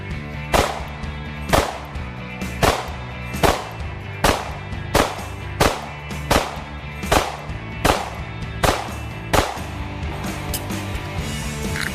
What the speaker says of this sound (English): go ahead and just fire off a couple mags and let's make sure these pistols run